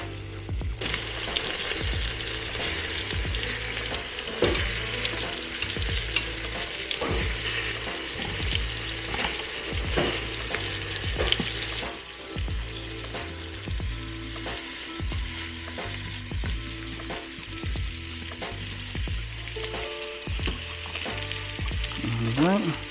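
Lamb chops sear on saute in an Instant Pot with a steady, close crackling sizzle. Occasional clinks and stirring noises sound over it, and a low rhythmic hum runs underneath.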